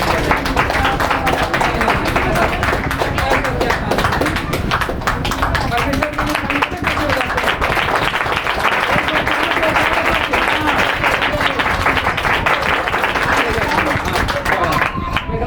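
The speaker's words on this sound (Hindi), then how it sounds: "एक बार जोर से ताली बजाएं।" Loud, vigorous clapping from a congregation at a Sunday church meeting, many hands beating in a fast, fairly rhythmic stream that continues throughout, with voices and crowd noise underneath.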